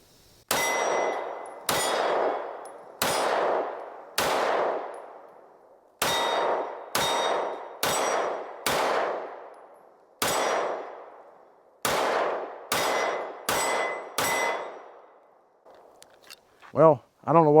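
Kimber CDS9 pistol fired at steel targets, twelve sharp shots each followed by a bright ringing clang, spaced in quick pairs and groups, with a brief voice at the end.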